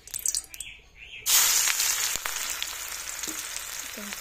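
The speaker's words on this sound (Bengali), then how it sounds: "এদিকে তেল গরম হয়ে গেছে, এখানে হচ্ছে পেঁয়াজ বেরেস্তা করবো আমি" Onions hit hot oil for beresta, a sudden loud sizzle bursting in after a second of quieter kitchen sounds, then a steady crackling fry continuing close by.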